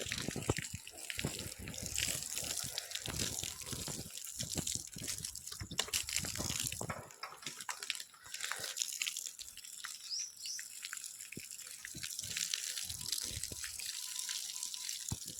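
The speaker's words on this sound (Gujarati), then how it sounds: "મેથીમાં પાણી કમ્પ્લીટ ચાલુ કરી દીધું આપણે ગાઈસ" Water running from a hose pipe onto fenugreek plants in a garden bed, a steady broad splashing and gushing rush that carries through with brief dips, with faint bird chirps in the background.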